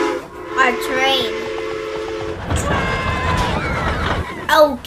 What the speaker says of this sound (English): Oh, a train.